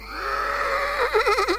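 A sheep in the cartoon adventure game Toonstruck lets out one long, loud bleat that wavers into a quavering vibrato toward the end, heard alone.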